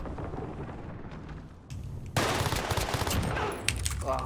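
Gunfire rattles in a Call of Duty Warzone match on the Fortune's Keep map: a quiet stretch breaks into loud, dense rapid bursts of shots and impacts that keep going to the end.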